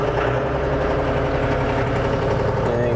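A John Deere tractor engine runs steady and loud up close, a dense, throbbing idle with a deep rhythmic chug and mechanical vibration that holds even throughout.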